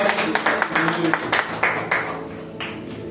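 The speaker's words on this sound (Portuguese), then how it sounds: "aplauda Jesus pelo céu do Senhor" A church congregation claps along in quick, uneven bursts that fade toward the end, with voices mixed in.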